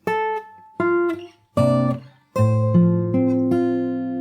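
Solo fingerstyle guitar plays the opening of the Animal Crossing New Horizons theme from the start, a series of plucked notes and chords with short gaps early on, then sustained ringing tones, close and clean.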